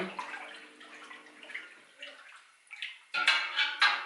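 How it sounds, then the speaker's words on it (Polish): Water for brewing pumpkin beer is stirred in a large pot, giving soft irregular sloshing that grows into louder close splashes toward the end. "Mieszamy."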